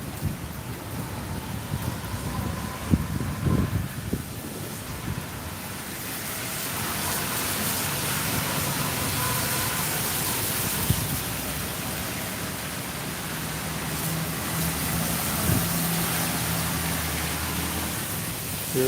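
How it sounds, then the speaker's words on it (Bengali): Light rain patters steadily as a Kalbaishakhi storm in Sylhet eases, a soft even hiss with a few faint knocks and low rumbles early on. "মোটামুটি বৃষ্টি কমেছে।"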